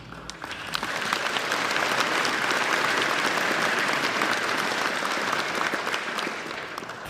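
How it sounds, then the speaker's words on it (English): Sustained applause from an audience at a state awards ceremony for Australian of the Year, building quickly then holding as a dense, even wash of clapping before tapering slightly. "we'll give them one more round of applause"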